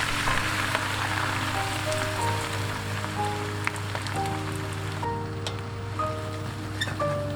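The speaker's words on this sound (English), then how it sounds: "Heat 2 cups of peanut oil, then add the prawn shells and stir fry for 10 minutes under high heat." Prawn shells stir-fried over high heat in hot peanut oil crackle with a dense, even sizzle throughout, with a soft melody playing faintly underneath.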